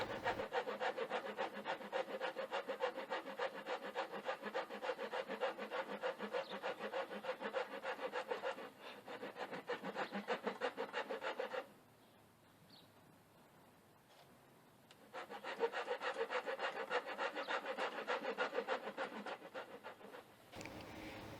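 Steady, continuous rasping and scraping of a wooden stitching pony seat being filed and sanded by hand, with a brief quieter pause midway before the abrasive strokes resume.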